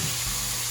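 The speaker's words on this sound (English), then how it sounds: "We're gonna start taking the pork and just give it a mix to stir it all around." Pork strips sizzle in a hot pan for a fajita quesadilla, a loud, steady frying hiss filling the brief moment.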